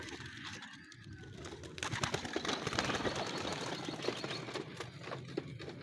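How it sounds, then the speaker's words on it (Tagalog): A flock of racing pigeons bursts into flight at a derby release in San Narciso, Quezon, wings flapping loudly and densely together, with faint cooing mixed in. "Release na yung ibon natin"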